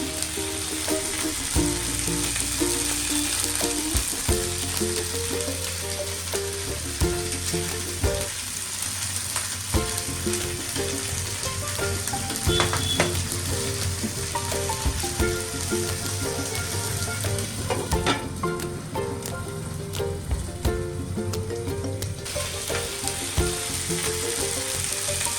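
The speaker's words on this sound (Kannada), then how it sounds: "ಆಮೇಲೆ ಒಂದೊಂದಾಗಿ ಫಿಶ್ನ ತವಾಗೆ ಹಾಕಬೇಕು." Fish frying on a tawa in a home kitchen, a steady loud sizzle and crackle of oil running throughout, with occasional clinks and stirring sounds, no voices.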